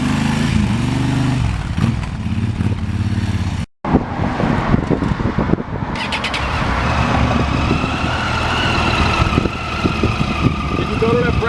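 A Ducati motorcycle engine runs at a steady, loud idle and low revs, with a throbbing rumble close by, a brief cut partway through, and people talking over it outdoors at a meetup at a Ducati dealership.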